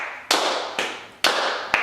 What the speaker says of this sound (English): She can clap super quiet